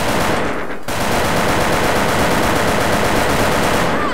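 Rapid automatic gunfire from an AK-47 Elite in a video game, loud and dense, a continuous burst that barely pauses, with no talking.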